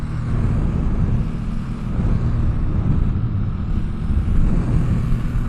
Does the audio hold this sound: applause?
no